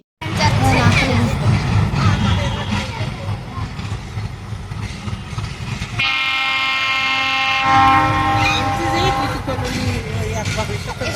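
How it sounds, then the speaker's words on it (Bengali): A passing train rumbles loudly and continuously near a station, with a long, bright horn blast sounding midway through the heavy clatter of the cars. "আর ট্রেন যাবে, এদিকে অনেক শব্দ হয়"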